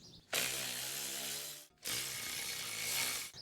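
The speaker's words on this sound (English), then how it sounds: "I'm just gonna finish it off with my electric ratchet." An electric ratchet runs a bolt home during front wheel bearing work on an Audi Q5, giving two sustained, loud whirring buzzes close up, separated by a brief pause.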